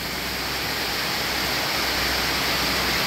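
Heavy rainwater pours steadily outside a kitchen, a dense, continuous broadband rush like a close downpour or runoff, loud and unbroken throughout with no talk.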